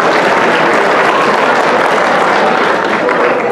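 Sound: audience round of applause

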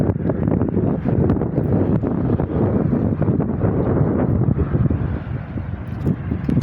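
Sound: wind blowing outdoors

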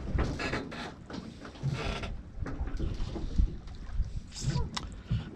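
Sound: creaking outhaul on a sailboat bouncing on wind waves

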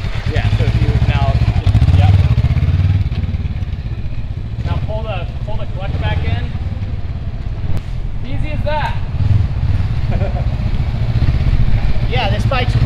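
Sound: dirt bike engine idling

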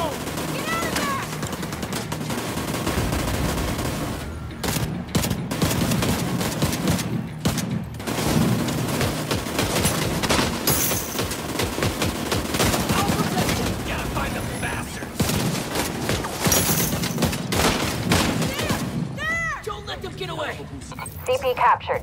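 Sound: gunfire in the video game The Division 2

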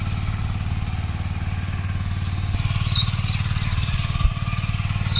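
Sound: tractor engine

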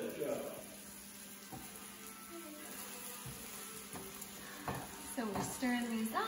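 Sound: stirring eggs, onions and zucchini frying in pan

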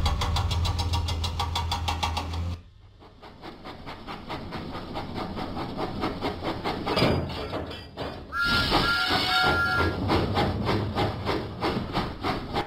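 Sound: steam locomotive puffing away in Thomas & Friends video game

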